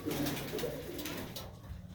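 Homing pigeons coo steadily in a crowded, messy loft, a soft continuous chorus of low throaty calls that fades a little toward the end, with no one talking.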